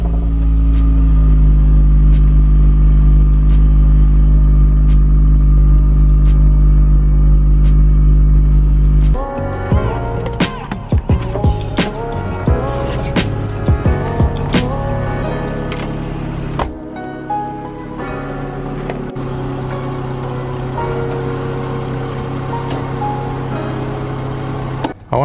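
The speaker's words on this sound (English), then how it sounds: "I'm going to run the engine" A Vauxhall Corsa 1.8 with a battery warning light fault runs close by. A loud, deep idle rumble shifts partway through into a rougher, busier engine drone with faint clicks and rattles.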